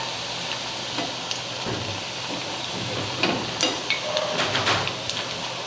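Rice flour chakli deep-frying in hot oil gives a steady, close sizzling hiss with scattered light clicks and taps from turning them, and no voices.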